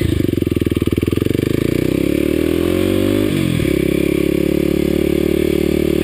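A Kawasaki KLX250sf motorcycle climbs the steep road up Mount McKay, its engine droning loud and close, with rapid thumping pulses early on that smooth into a steady higher rev, then a brief dip and recovery.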